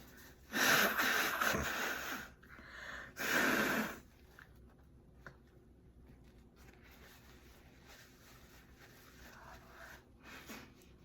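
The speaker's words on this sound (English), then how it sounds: "So I'm gonna use some toilet paper to blow my nose quick." Someone blows their nose into toilet paper in two loud, wet, close honking bursts, followed by quiet rustling and soft movement.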